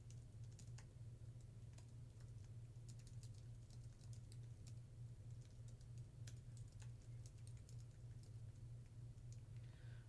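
Light typing on a computer keyboard during a craft session, soft quick key clicks in irregular bursts over a steady low hum, faint and close, with no talking.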